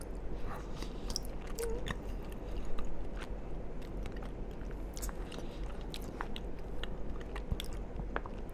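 Dense, dry drunken cheesecake is bitten and chewed up close, producing a continuous run of soft, moist crunches and mouth sounds at a steady pace, with no talking.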